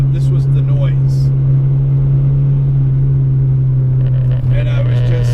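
A car engine drones steadily while driving, a loud, constant low hum with a deep tonal rumble throughout and slight variations in pitch.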